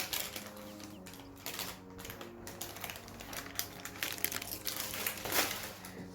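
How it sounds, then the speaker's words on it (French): Parchment paper is peeled slowly off a rolled gluten-free sponge cake, giving soft crinkling and crackling close by, faint and continuous under a steady low background tone. "J'essaye d'enlever le papier sulfurisé doucement."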